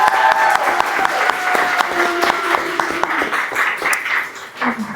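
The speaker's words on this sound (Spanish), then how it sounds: "Un aplauso para Rita Segato" An audience at a feminist book presentation in La Paz applauding Rita Segato, with sharp individual claps over a murmuring crowd and faint tonal background sound, tapering near the end.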